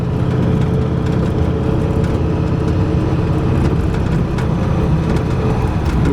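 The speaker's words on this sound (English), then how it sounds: "That motor just runs so smooth." A restored 1939 Ford Deluxe with a flathead V8 runs at a smooth, steady idle, heard as a loud, close, even engine rumble with no talking.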